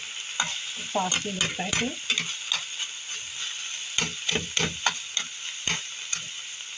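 Minced meat being stirred in a frying pan, with repeated scraping strokes and a steady sizzle underneath, close and moderately loud; a voice speaks briefly near the start.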